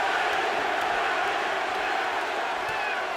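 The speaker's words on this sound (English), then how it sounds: "Crowd begins to chant, Pavlik, Pavlik, Pavlik." Boxing arena crowd at the Jermain Taylor vs Kelly Pavlik fight chanting Pavlik's name, a dense, steady roar of many voices filling the space with no break.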